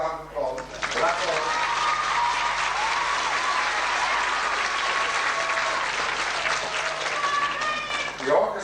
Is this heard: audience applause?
yes